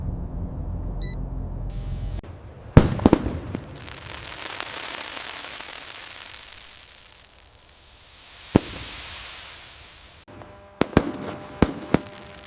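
Night fireworks display with sharp bursting bangs and crackles in several clusters, a loud double burst early, a single pop mid-way and a rapid volley near the end, with hissing shell trails and fading rumble between.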